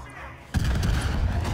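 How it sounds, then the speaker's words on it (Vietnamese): A sudden low boom bursts in after half a second of quiet and rumbles on to the end, an enemy being blown up in the video game Far Cry 5. "Cho mày nổ luôn. Bùm."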